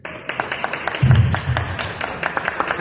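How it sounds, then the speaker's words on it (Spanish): An audience at a political party event in Puebla claps for a newly introduced deputy, with scattered, uneven hand claps that build into moderate applause. "Y le pido un aplauso por él."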